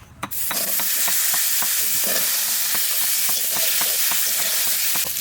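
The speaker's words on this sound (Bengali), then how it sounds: "আলুগুলো দিয়ে দিচ্ছি" Potato pieces added to hot oil in a village kitchen, with fish already fried, crackle and sizzle loudly and steadily, broken by sharp clicks of stirring throughout, with no talking.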